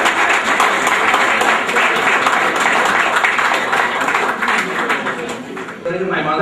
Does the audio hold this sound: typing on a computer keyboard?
no